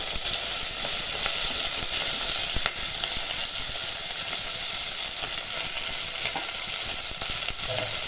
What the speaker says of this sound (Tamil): வெங்காயம் பச்சை மிளகா கருவேப்பிலை போட்டு நம்ம தாளிச்சிக்கலாம்